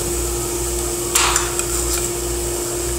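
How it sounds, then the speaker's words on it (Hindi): A spoon stirs fried almonds and pistachios into dates halwa in a pan, giving a brief burst of scraping and clinking mid-way over a steady background hum. "अब इसमें हमने फ्राई किए हुए बादाम और पिस्ता ऐड करने"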